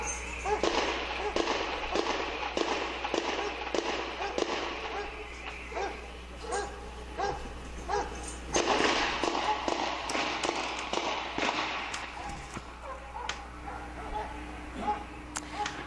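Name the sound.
gunfire during police shoot-out with Boston bombing suspects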